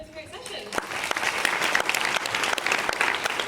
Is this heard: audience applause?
yes